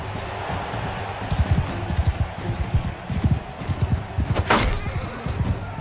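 Galloping horse hooves in Mount & Blade II Bannerlord pound out a rapid, rhythmic clip-clop, with a brief neigh or clash midway under battle noise.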